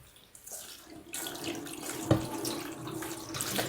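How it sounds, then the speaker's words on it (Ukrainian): Pork liver being rinsed in a colander under a running kitchen tap, a steady close splash of water with a brief sharper spatter near the middle, no voices. "Тепер потрібно печінку промити під проточною водичкою"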